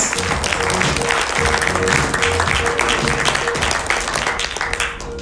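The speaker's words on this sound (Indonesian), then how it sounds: "Mari kita sambut dengan luar biasa, dengan tepuk tangan yang luar biasa" Audience at a Nagaya Technologies meet-and-greet event applauding steadily and loudly for the whole stretch, a dense wash of many hands clapping with faint voices mixed underneath.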